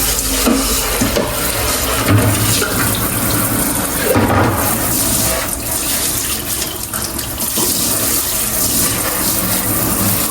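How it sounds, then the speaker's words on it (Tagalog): A strong, steady stream of tap water gushes from a faucet into a kitchen sink, loud and close, a continuous rushing splash with no talk. "Lakas ng tubig nila dito"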